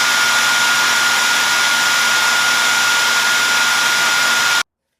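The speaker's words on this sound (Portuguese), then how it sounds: "Hoje é dia de secador." A hair dryer, used as a tool for transforming a painting, blows with a loud, steady whooshing roar and a faint tonal whine for nearly five seconds, then cuts off abruptly.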